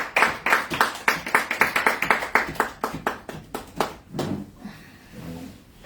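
A church congregation claps in fast, steady unison, a loud run of crisp hand claps that slows and fades out after about four seconds, leaving a few softer, scattered sounds.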